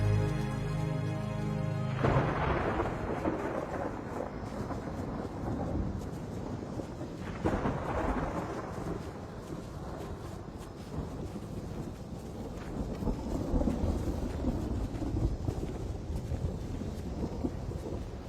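Thunderstorm in open country with rolling thunder and steady rain, a loud crack near the start, then a continuous dense rumble and wash of rain throughout.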